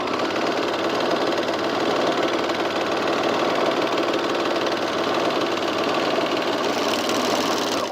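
An overlocker sewing machine runs steadily for several seconds, a close, loud, continuous mechanical whir with rapid needle chatter and no pauses.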